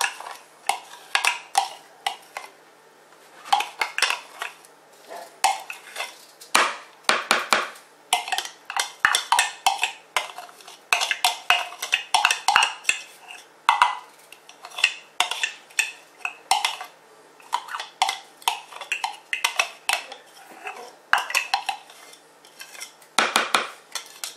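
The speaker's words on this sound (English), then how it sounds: "we're going to take our cucumber and garlic, and we're going to get this all spooned in here" A spoon scoops chopped cucumber and garlic into a container, making irregular clinks and scrapes of metal on the dish that keep going steadily for about twenty-four seconds, with no voices.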